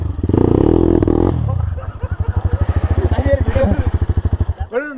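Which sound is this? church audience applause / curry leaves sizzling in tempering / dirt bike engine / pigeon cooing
dirt bike engine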